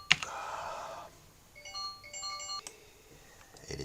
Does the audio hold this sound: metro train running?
no